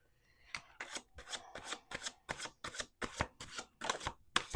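Tarot cards are shuffled in a rapid run of about ten crisp riffling bursts, evenly spaced and close, with no talking.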